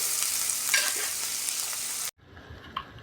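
Onion and tomato sauté in a hot pan with a bright, steady sizzle for about two seconds. It then cuts abruptly to a much quieter, softer crackle with a faint clink.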